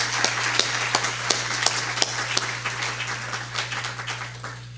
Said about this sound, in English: I want us all to give our speakers one more round of applause.